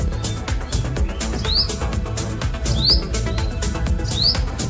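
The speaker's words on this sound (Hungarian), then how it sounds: "Ezt a szép madarat, itt közvetlenül a szállásunknál van" A bird calling right beside a lodging on Koh Yao Noi island, Thailand, repeating a short rising chirp every second or so over dense, steady background noise, fairly near and clear.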